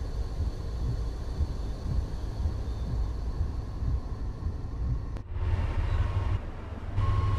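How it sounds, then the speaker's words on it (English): An oncoming Long Island Rail Road train in Train Sim World 5 arrives on the Patchogue to Jamaica route with a continuous low rumble and rail roar that shifts abruptly partway through, without any speech. "We have another oncoming train."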